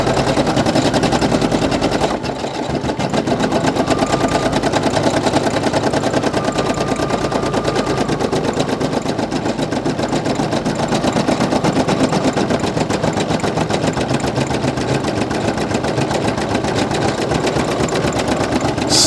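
A Brother PE800 embroidery machine stitches a patch border, its needle hammering in a rapid, even mechanical rattle that runs loud and continuous, with a brief pause near the start.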